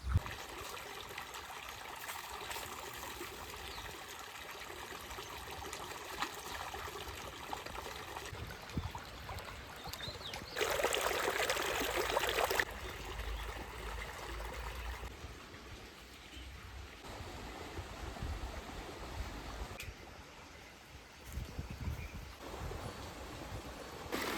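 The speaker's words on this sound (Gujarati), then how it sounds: "હવે આપણે જ્યાં મોટર ચાલુ છે ને, કુંડી છે, ત્યાં પાણી પડે છે" Water from a running motor pump pours steadily into a farm tank, a continuous rushing trickle that swells louder for a stretch midway, heard alone without talk.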